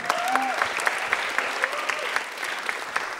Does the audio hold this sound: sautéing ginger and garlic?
no